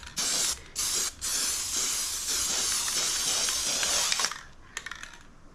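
Spray paint cans that don't always spray at full pressure spray in several long hissing bursts separated by short pauses, followed by a few light rattling clicks.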